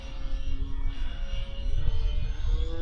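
Durafly Tundra V3 RC plane in flight, its electric motor giving a steady droning hum with wind buffeting, recorded close from an onboard camera.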